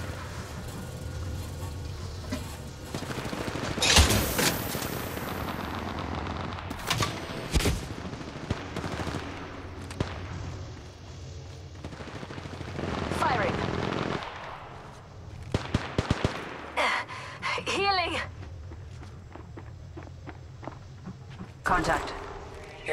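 Gunfire in the mobile battle royale Apex Legends Mobile, bursts of automatic shots and single cracks scattered across a ranked match, with footsteps and a game voice calling out under and between the shots.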